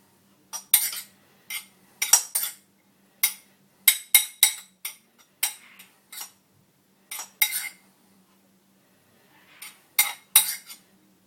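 A spoon mixes rice with coconut oil and cinnamon in a dish, giving bursts of clinking and scraping against the bowl in an irregular rhythm, close and fairly loud, with brief pauses between strokes.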